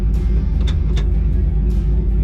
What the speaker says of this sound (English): Same spot in Mexico with a lot of traffic.